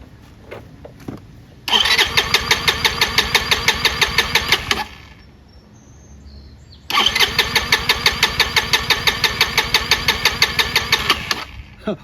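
A Chinese 150cc motor scooter engine cranks into a rapid, rattling run, cuts out for a couple of seconds, then fires up again with the same loud pulsing chatter, close by with no talk.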